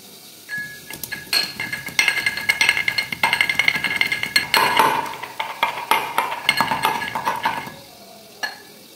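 Garlic is pounded by hand with a dense run of sharp, ringing metallic strikes and clinks, loud and close, which fade to a single last knock.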